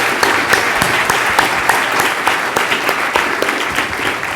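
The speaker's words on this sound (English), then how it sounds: "can we give everyone a round of applause?" Sustained audience applause fills the room after a panel discussion on low Earth orbit at a space conference, steady dense clapping with a few sharper individual claps standing out, loud and continuous with no talk over it.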